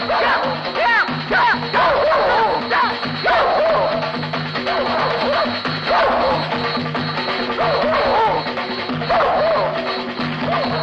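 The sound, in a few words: dogs barking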